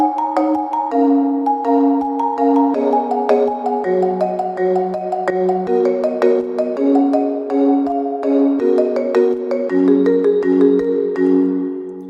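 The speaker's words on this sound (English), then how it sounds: "So the first sound we have here is this marimba." A solo marimba plays a melodic line, steady mallet notes ringing in clear succession, loud and alone with no voices.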